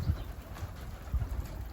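Low, soft cooing of pigeons in a coop comes in short throaty pulses over a faint background hum.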